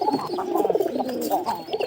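Pigeons coo continuously at close range in a dense, overlapping murmur of soft throaty calls, with no talking.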